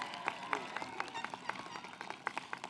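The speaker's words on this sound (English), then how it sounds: "let's give them a round of applause" An audience at the 2026 Contra Costa College commencement ceremony claps, with brisk, uneven hand claps of moderate loudness running steadily and a few louder individual claps standing out.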